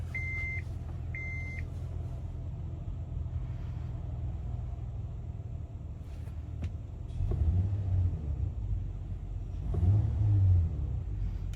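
A 2014 Honda Odyssey EX-L minivan started by push button and left idling: two short electronic beeps at the start, then a steady low engine rumble that swells slightly twice.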